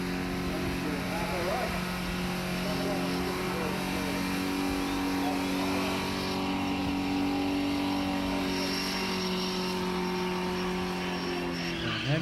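A car engine revs hard during a Summernats burnout competition, holding a loud, steady droning roar throughout with a slight rise in pitch near the end and no pauses.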